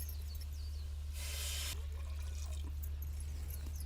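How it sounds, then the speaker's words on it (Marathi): Water pours into a spice mixture for a fish curry in a short, soft splash lasting under a second, set against a quiet, steady hum. "मसाले एकत्र झाले का लगेच आपल्याला त्याच्यात पाणी टाकायचंय."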